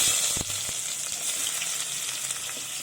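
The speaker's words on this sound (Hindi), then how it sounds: "थोड़ा सा गरम होगा तो इसमें मैं ज़ीरा ऐड कर दूँगी, और उसके फ़ौरन बाद इसमें हम प्याज ऐड कर देंगे।" Cumin and onion fry in mustard oil for a cluster bean sabzi, making a steady, even hiss with a couple of sharp knocks at the start and no speech.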